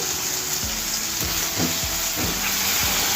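Curry leaves and green chillies sizzle in hot oil during bottle gourd cooking, a steady close frying hiss with a few soft stirring bumps.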